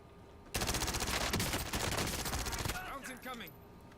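Call of Duty gunfire: a dense burst of rapid automatic shots rings out loud and close for about two seconds, then cuts off, leaving brief electronic chirps and tones from the game.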